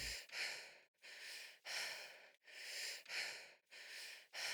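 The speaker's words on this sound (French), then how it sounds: "Une respiration qui nous est lointaine, un souffle lourd, fatigué." Slow, heavy breathing close up, with long rasping inhales and exhales in a steady, weary rhythm and no talking.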